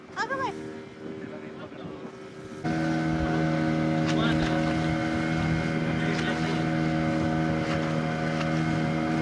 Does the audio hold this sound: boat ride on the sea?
yes